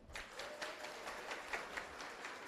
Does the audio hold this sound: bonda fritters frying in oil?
no